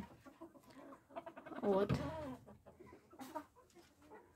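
Hens of the Ukrainian cuckoo breed cluck and murmur in a coop, with a louder, rising squawk in the middle and softer clucks before and after. A single short word is spoken briefly.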